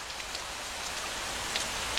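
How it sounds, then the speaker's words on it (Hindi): Steady rain falls across the whole stretch, a dense even patter with a few brighter drop hits, alone with no voices. "ये बारिश यानी 7 साल फरावानी रहमत का आगाज हो गया है।"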